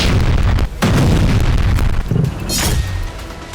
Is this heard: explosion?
yes